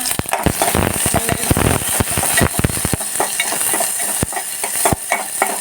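Onion and green chili go into hot oil with cumin for a dal tempering, crackling and sizzling loudly up close while being stirred, with sharp popping bursts over a continuous fry.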